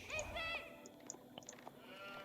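A single sheep in a real-time strategy game tournament match gives a couple of short, wavering bleats right at the start, faint and close, followed by sparse soft in-game clicks and ambient game sounds.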